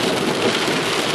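Rain falls on a coffee plantation in northern Paraná, a steady, dense hiss of drops with no break.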